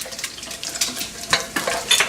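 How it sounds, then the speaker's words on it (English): Cumin seeds frying in a pan for jeera rice, a soft crackling sizzle with scattered pops and faint splashy texture, steady and fairly close, no talking. "So the reason that we add the Jeera in the end is because it fries pretty quickly."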